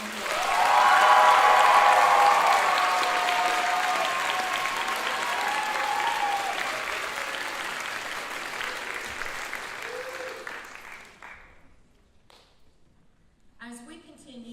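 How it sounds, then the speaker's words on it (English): A convocation audience gives sustained, loud applause at a school closing ceremony, starting full and gradually thinning out before fading to near silence, with a few voices at the end. "Let's give Allison and the TACs a huge round of applause"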